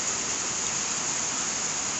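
Steady rain pours during a thunderstorm on a farm, a dense, even hiss with no distinct drops or thunder, and no voices.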